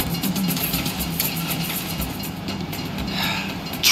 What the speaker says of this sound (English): You know the train comes by right now.